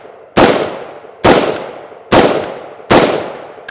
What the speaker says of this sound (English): now let's work the rifle